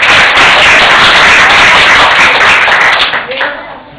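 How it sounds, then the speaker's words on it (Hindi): Loud, thick applause from an audience at a children's religious speech competition crackles close and steady, then thins and fades away in the last second. "जोरदार तालियों से स्वागत करें सभी का"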